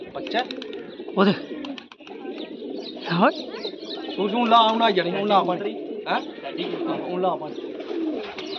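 Soft pigeon coos repeat under close, ongoing conversation, with a few sharp bird chirps mixed in.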